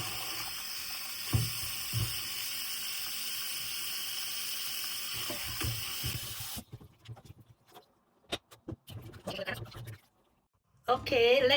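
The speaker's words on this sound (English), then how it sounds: "Rinse the corns cleanly." Fresh corn is rinsed under a running kitchen tap, a close hissing spray for about six seconds before it cuts off, with a voice talking through and after.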